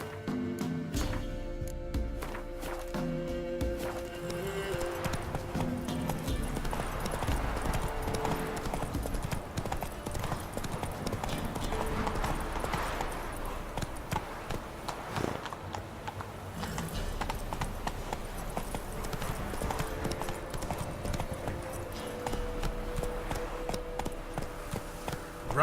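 Roach the horse galloping in The Witcher 3: steady rhythmic hoofbeats clip-clop throughout, with game ambience and a brief horse whinny, no talk.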